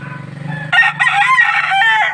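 A bulik-colored gamecock rooster lets out one loud, close crow that starts after a brief low hum and holds for well over a second in a strained, wavering call.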